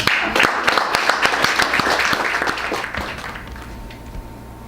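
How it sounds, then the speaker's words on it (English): Audience at a publishing open mic night claps for a shy new reader, a dense patter of hand claps under faint talk that thins out toward the end. "Please give her a big round of applause."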